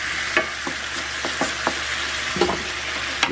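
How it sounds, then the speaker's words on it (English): Risotto rice being stirred with stock in a pan, a steady bubbling sizzle punctuated by several sharp spoon scrapes and taps against the pan, close up and without talking. "Just give that a little stir, add a little bit more stock, give that a stir."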